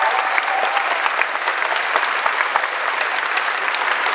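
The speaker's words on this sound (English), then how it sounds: "Give him a round of applause." Steady, dense applause from a large crowd at a Star Wars Celebration panel on Star Wars Land with Disney Imagineers and Lucasfilm, continuous and loud throughout without pause.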